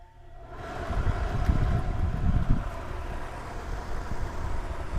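A new attic fan motor starts up after near silence, a broadband whooshing hum quickly rising to a steady loud rush with low rumble.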